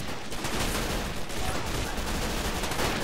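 Dense, continuous gunfire with bullet impacts in the WWII strategy game Men of War: Assault Squad 2, a steady chaotic wash of rifle and machine-gun shots crackling throughout without pause.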